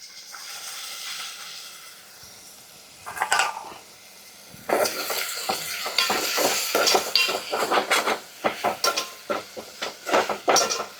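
Boiled green peas are tipped into potato kurma frying in a pan, followed by repeated scraping and clanking of a spoon as the mix is stirred, over a soft steady sizzle.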